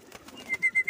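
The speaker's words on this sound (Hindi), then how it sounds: "देखो कैसे कबूतर हैं।" Pigeons, high-flyer birds kept for sale in Punjab, coo close by: a few soft scattered notes, then three or four rounded, evenly spaced coos in quick succession.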